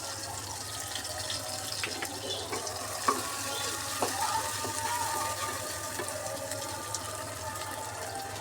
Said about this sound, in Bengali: পেঁয়াজটা 2-3 মিনিট এইভাবে একটু ভেজে নেব।